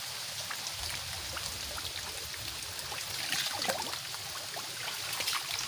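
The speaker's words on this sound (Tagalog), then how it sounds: "Guys, ang lakas ng ulan." Heavy rain pours steadily in a rural provincial setting during crab catching, a dense continuous hiss with scattered drops and trickles, loud and close, with no talk.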